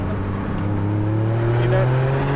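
A Toyota GR Yaris hot hatch drones steadily from its exhaust while cruising, a smooth, continuous engine note that rises slightly in pitch, heard from inside the car with someone talking over it.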